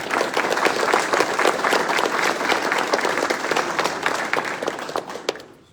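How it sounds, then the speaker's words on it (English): Audience applause at a US Army South Atlantic Division change of command ceremony: dense, sustained clapping from a large crowd that fades out at the end. "Please join me in a round of applause for all of our guests."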